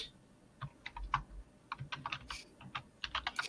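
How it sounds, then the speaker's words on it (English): Fingers tap a computer keyboard in quick, uneven bursts of clicks, close and fairly quiet, with brief pauses between runs of keystrokes. "I'm typing."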